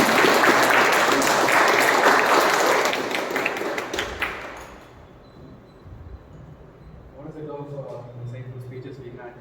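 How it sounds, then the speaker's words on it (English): Audience applause welcoming a Toastmaster onto the stage at a Toastmasters Onam meeting, dense clapping for about five seconds, then fading into a quieter room with a voice beginning to speak. "Can we give a huge round of applause?"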